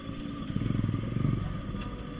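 Several superbikes, among them a Honda CBR, ride past on a Sunday group outing, their engines a close, loud, pulsing drone that swells and fades over a couple of seconds.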